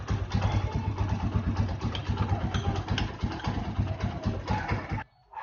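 A Honda TMX motorcycle engine idles close by with a steady, pulsing single-cylinder putter for about five seconds, then drops out briefly near the end before resuming.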